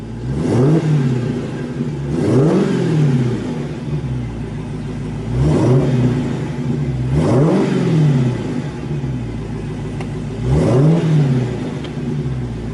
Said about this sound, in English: Let's go ahead and listen to the engine roar.